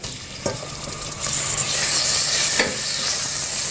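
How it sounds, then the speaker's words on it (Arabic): Eggplant frying in a pan, a continuous bright sizzle that swells louder after the first second and holds steady, with a couple of brief clatters and no talk. "نقلو الدنجال"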